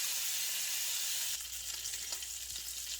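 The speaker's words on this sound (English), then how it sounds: "So I'll just keep stirring this" Gravy sizzles and bubbles in a pan while being stirred for a poor man's steak dinner, a continuous hiss that drops in level partway through, with faint scraping and clicks of the stirring utensil.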